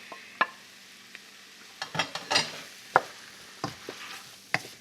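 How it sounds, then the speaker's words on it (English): Cooked turkey goes into a hot pot for turkey noodle soup and gets stirred, giving scattered scraping and clattering stir strokes over a soft background sizzle, close by and with no talking. "In goes Theodore the turkey."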